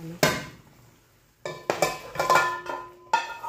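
A metal pot clanks and rings several times, sharp close knocks separated by short pauses, with no voices.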